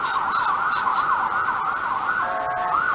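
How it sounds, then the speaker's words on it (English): A wailing ambulance siren sweeps up and down continuously, loud and steady, with a second tone layering in near the end; no talking. "Oh, sounds the ambulance."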